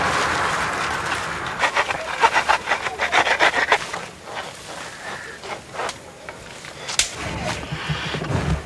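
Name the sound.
piercing bamboo nodes to make a flute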